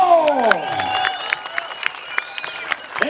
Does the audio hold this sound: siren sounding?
no